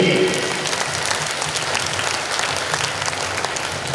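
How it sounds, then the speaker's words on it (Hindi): An audience at a Hindi religious sermon, held in a wedding hall in Fatehganj Paschimi, claps loudly and steadily in one dense, continuous burst of applause with no pauses. "हाथ ऊंचे करके ताली जोर से बजा दो भक्त के लिए।"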